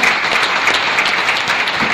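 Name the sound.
loud applause for guests coming on stage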